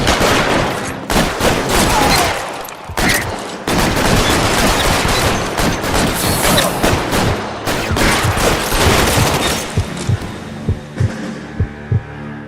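Thompson submachine gun firing in a gunfight in L.A. Noire, with dense repeated bursts of automatic fire and shots across most of the stretch, then tapering to a few separate sharp cracks at the end.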